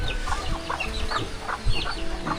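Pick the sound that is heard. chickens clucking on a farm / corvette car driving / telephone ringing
chickens clucking on a farm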